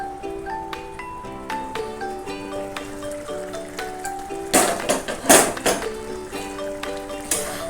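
A lid set on a cooking pot of young jackfruit curry gives a few sharp metallic clatters and rattles midway, heard over steady background music with soft tones.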